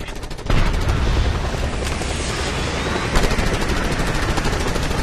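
Loud, continuous automatic gunfire in a shooting video game breaks out suddenly after a brief lead-in, firing at rooftop hostiles in a dense, unbroken rattling barrage with some heavier bursts.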